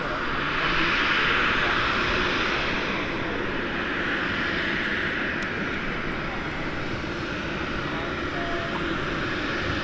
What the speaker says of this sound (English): Something maybe taxiing out.